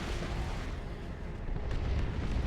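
An artillery barrage in Dawn of War 2: Retribution, a dense continuous rumble of overlapping explosions, loud and sustained, swelling toward the end.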